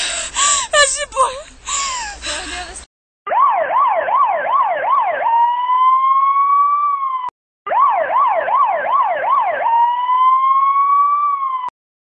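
Police car siren, loud and close, wailing in a fast rising-falling yelp, then switching to a sustained tone. It runs in two bursts separated by a short silence, with excited voices in the opening seconds.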